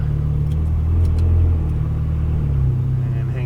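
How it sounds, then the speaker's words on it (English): Cars, including a Ferrari 458 Italia, rumble past on a racetrack in a steady, close engine drone that shifts in pitch midway, with a voice talking over the noise. "We'll let some cars go on by."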